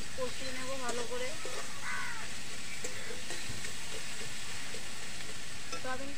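Ingredients for egg chow mein being stir-fried in a pan, a continuous sizzle with stirring scrapes, while crows caw in the background and a voice is briefly heard.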